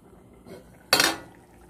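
A metal lid clanks down onto a cooking pot of salt fish and vegetable rice, one sharp bright clatter with a short ringing tail after a faint earlier rattle.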